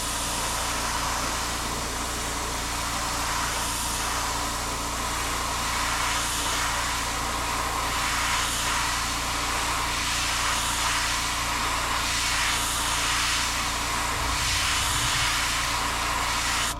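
An airbrush laying down a light mist of black paint, likely on a fishing lure, gives a steady, even hiss that runs unbroken throughout at a moderate level.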